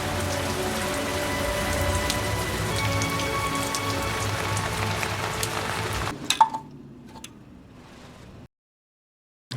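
Rain falls steadily in a film scene, a dense, even patter on surfaces for about six seconds, then cuts off abruptly into a few scattered ticks and drips before silence.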